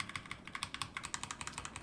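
Quick, steady computer keyboard keystrokes at a desk, close clicks in an even typing rhythm with no talk.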